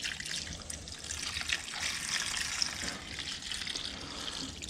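Rust remover liquid pours into a container to soak parts, a steady close splashing trickle that runs continuously with no talking.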